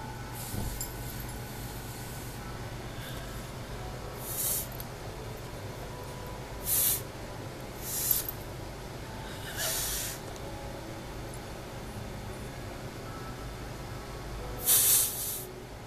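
A cat makes short hissing, snorting ear-popping bursts at irregular intervals over a quiet background hum, each lasting under a second.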